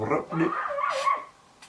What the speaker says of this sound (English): Can the dogs calm down?